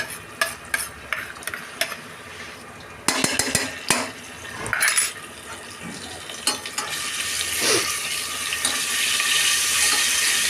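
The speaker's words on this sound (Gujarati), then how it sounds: "લસણને સાંતળવાનું છે." Garlic sautés in a pan, opening with sharp clinks of a utensil scraping and stirring, then settling into a steady, building sizzle of frying under occasional stirs, with no talk.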